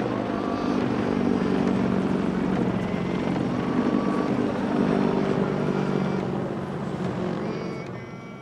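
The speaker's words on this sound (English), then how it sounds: "giant American helicopters circled above us, intimidating as always." Large American military helicopters circle overhead in Okinawa, a steady broadband rotor and engine roar that stays loud for most of the stretch, then eases slightly toward the end, with no talk.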